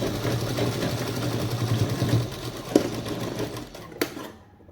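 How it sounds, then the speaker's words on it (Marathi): A sewing machine runs steadily, stitching around three sides of a handmade fabric purse, its close, even whir continuing for several seconds before a couple of clicks and a stop. "शिले मारून घेतली चारी बाजूने तिन्ही बाजूने"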